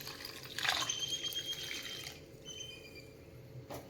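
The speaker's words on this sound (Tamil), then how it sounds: "ரசத்துக்கு தேவையான தண்ணி ஊற்றிக்கலாம்" Water poured into a rasam mixture for thoothuvalai rasam, a steady splashing pour in a close kitchen that eases off after about two seconds, ending with a faint clink.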